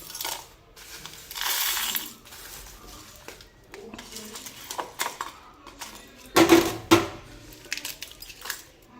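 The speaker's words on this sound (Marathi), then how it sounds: "आता आपण हा सगळा मसाला हे मिक्सरच्या भांड्यात टाकून घ्यायचा आहे" Dry sambar masala spices are tipped into a mixer jar, clattering and rattling against the metal in several scattered bursts, with one louder clatter near the end.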